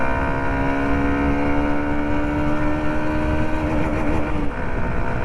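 A Hero Xtreme 125 motorcycle rides in third gear at around 81, its engine giving a loud, steady, smooth drone with a constant humming tone that holds evenly throughout and dips only briefly near the end.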